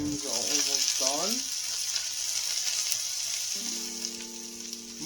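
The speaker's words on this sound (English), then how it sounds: "Mushrooms looking good, look at that. Nicely fried, very lightly fried too." Mushrooms frying lightly in a pan give a constant close sizzle, while a voice speaks briefly over it early on and a tonal sound rises near the end.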